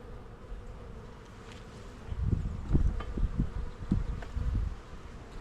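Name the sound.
bees buzzing in a hive box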